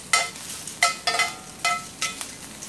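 Onions and peppers with red pepper flakes sizzle in a pan for a spicy Philly cheesesteak, with several bursts of hiss and clatter as the vegetables are tossed, close and fairly quiet.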